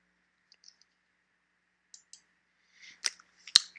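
Sparse, faint computer mouse clicks while pressing a button in 3D sculpting software, a few isolated soft ticks followed by a cluster of sharper, closer clicks near the end in a silent room.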